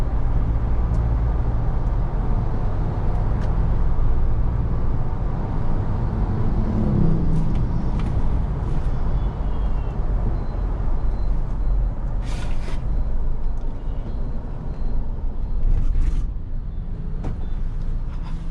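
A Mahindra Thar petrol with a manual gearbox cruises in fifth gear on a beach, giving a steady low engine and road rumble inside the cabin, with a few faint clicks and knocks.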